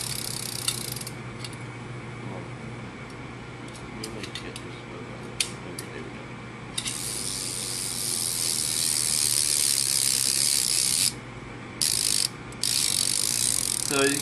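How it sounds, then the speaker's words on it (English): A bicycle rear hub with a busted bearing ratchets as the wheel spins, giving a continuous fine clicking buzz that grows louder and brighter toward the end, close up and without talk. "Okay, so this is just what the hub sounds like."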